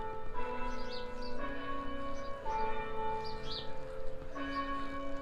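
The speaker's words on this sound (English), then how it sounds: "The bells are chiming here in Glenrock." Church bells chime through the small town of Glen Rock, Pennsylvania, a steady run of overlapping ringing tones with new strikes every second or so, heard clearly outdoors with no talking.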